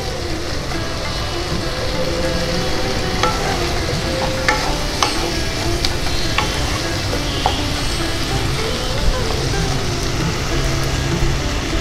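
Chicken keema with chana dal stirred and frying, a loud continuous sizzle with scattered scraping and tapping of a spoon against the pan, steady throughout, with no talking.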